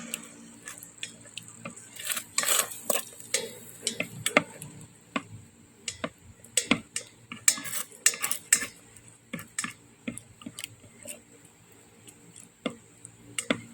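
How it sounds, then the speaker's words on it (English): Clinking and scraping of a utensil against a bowl while tamago egg salad is mixed with leftover cheese, a close, irregular run of small ticks and taps with no talk. "So what we want to do is give it a good mix."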